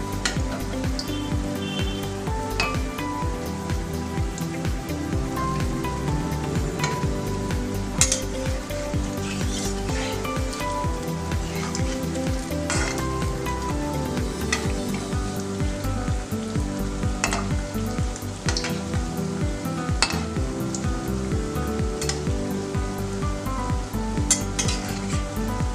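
Palm fruit fritters crackle in hot oil in a pan, a dense steady sizzle broken by clinks and scrapes as they are stirred and flipped.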